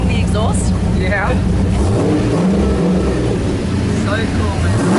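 Original Fast & Furious movie car idling with a loud, rumbling exhaust, a dense low engine drone that persists throughout with faint voices in the background.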